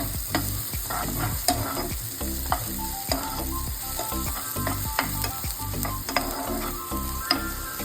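Chopped onions sautéing in a pan, with a continuous sizzle and regular rhythmic scraping strokes of a spatula repeating about twice a second, close and steady, no talk.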